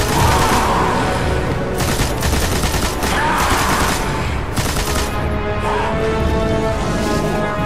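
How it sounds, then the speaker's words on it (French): Sustained machine gun fire in the shooter game Destiny, a long loud rattling barrage of rapid shots with a few heavier booms, close and continuous for several seconds with almost no talk. "on va se prendre un petit coup de mitrailleuse"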